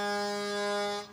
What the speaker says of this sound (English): that honking you hear there is from the Yorktown Highway Department